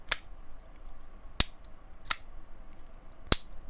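Four sharp metallic clicks of an Arcane Design Co x Brian Brown Vult hawkbill flipper knife blade snapping shut, crisp and close, spaced unevenly over a quiet background.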